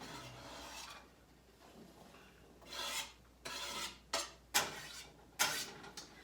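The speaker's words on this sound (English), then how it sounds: "So I'm going to add these to the frying pan." Food goes into a frying pan over fairly high heat while a curried caribou meal is cooked, heard as a quiet series of scraping, rasping bursts, each a second or less, with no talking.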